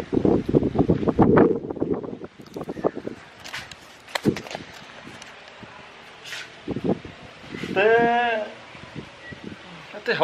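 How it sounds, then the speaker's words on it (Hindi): Strong wind sweeps across a chili pepper field, roaring and buffeting the microphone in heavy low gusts, loudest in the opening seconds. Brief voices and other scattered noises break through the rushing air. "हवा बहुत बज रही है, देखो तुम देख लो हवा कितनी तेज चलती है।"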